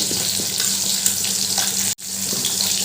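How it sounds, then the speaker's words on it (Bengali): Whole cinnamon pieces, cumin seeds and a bay leaf frying in hot oil as the tempering for a raw papaya kofta curry, giving a steady, close, dense sizzling hiss that holds throughout with one brief cut-out. "এবার ফোড়নটা একটু ভালো করে ভেজে নেব"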